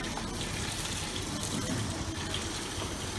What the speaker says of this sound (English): We want every bucket full, so we add a little water.